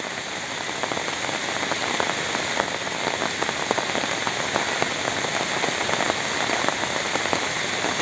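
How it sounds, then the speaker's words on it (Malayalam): Heavy rain pouring down beside the Canoli Canal river in Kerala, a dense, even roar of drops striking water and surfaces, continuous and close, with no speech. "ഈ മഴ ഇപ്പോഴും പെയ്തുകൊണ്ടിരിക്കുകയാണ്"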